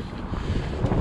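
Steady, heavy wind buffets the microphone with a low rumbling roar throughout, loud and continuous with no other clear sounds.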